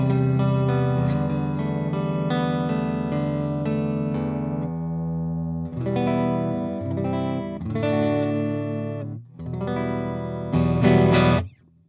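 A Squier Telecaster electric guitar plays through effects on pickup position 3, giving sustained distorted chords and notes with a rich, buzzy tone. The playing is loud and close, with brief pauses between phrases.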